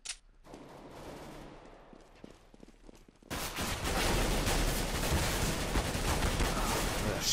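Gunfire in the video game CS:GO, sparse scattered shots over quieter ambience at first, then a sudden jump into loud, continuous rapid automatic fire that fills the rest of the stretch.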